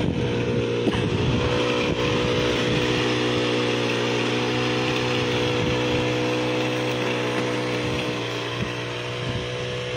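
A multi-purpose weeding machine runs steadily during a field trial, its engine drone constant and fairly loud throughout, with a low mechanical hum and no talk.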